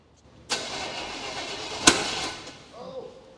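Crate 350 engine in a 1951 Chevy 3100 farm truck cranking with a mistimed ignition, two sharp bangs over steady starter churning, nearby and fairly loud.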